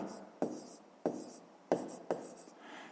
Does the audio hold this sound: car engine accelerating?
no